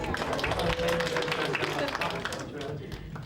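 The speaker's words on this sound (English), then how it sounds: "let's give her a round of applause" Participants at a research conduct course give a round of applause, a dense patter of clapping mixed with chatter and talk in the room that gradually thins out.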